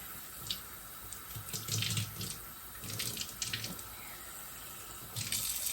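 Tap water runs in bursts from a faucet into a sink while sprouting seeds and beans get their daily rinse, splashing and gurgling close by, with short pauses between pours.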